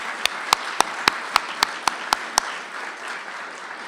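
Sparse applause at an awards ceremony for families of newly promoted department members: about nine slow, evenly spaced sharp claps standing out over a soft wash of distant clapping.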